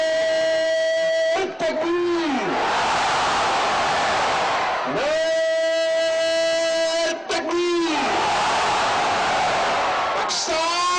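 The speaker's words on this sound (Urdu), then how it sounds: "پریڈ کے موقع پر حاضرین نے پاکستان کا مطلب کیا، لا الہ الا اللہ اور پاکستان زندہ باد کے نعرے لگائے" A large parade crowd in a stadium chants Pakistan Zindabad and other national slogans, a loud, sustained roar of massed voices with rhythmic swells and brief dips.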